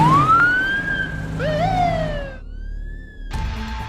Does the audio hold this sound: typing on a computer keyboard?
no